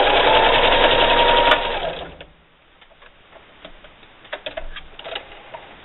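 A sewing machine stitches rapidly and loudly while backstitching at the end of a bandana bib seam, then stops after about two seconds, leaving faint clicks and handling sounds.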